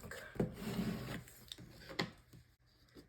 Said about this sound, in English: I will burnish this front and back,